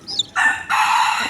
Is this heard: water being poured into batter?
no